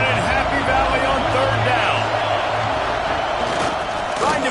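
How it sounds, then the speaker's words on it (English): Broad roar of a big crowd at a college football game between Oregon and Penn State, a steady wash of noise filling the whole stretch under a commentator's voice. "Here comes the noise from this big crowd."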